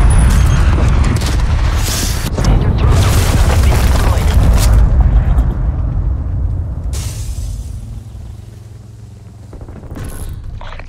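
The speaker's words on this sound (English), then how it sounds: "Enemy cruise missile launch detected." A loud booming explosion from an enemy cruise missile in Call of Duty Cold War, a heavy roar with crackling debris that swells and then slowly fades, with players talking over it.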